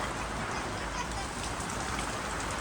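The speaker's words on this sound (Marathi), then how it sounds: "पण भावांना असला घाण पाऊस आला" Heavy rain pours down steadily during a cyclone, a dense, continuous hiss of water close by with no break.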